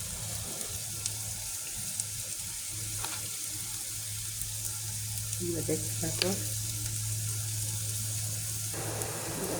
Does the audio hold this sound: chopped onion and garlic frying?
yes